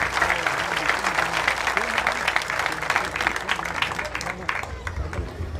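Sustained audience applause for a singer at a Catholic church gathering, loud and continuous, with crowd murmur and some voices mixed in beneath the clapping.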